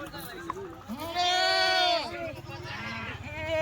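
Kathiawadi goats bleat loudly in long wavering calls, one drawn-out cry in the middle, over a background of farmyard noise and voices.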